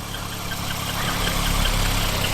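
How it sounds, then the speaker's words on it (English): A Ford Anglia engine idles close by during a cold-start warm-up on a winter day, a steady low, even running hum that grows slightly louder partway through, with no talking. "it's a very quiet sounding engine, this one"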